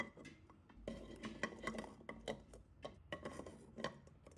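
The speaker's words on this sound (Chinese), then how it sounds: "然后将鸡蛋捞出，直接放入锅中" Eggs go into a cooking pot for tea eggs, clattering against the pot with a few hard knocks and scraping sounds, close and fairly clear, with no speech.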